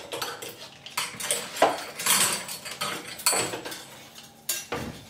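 Dishes and cutlery clattering as a dishwasher is emptied during a big kitchen cleaning, a series of irregular close clinks, scrapes and knocks of plates and silverware, alone without talk.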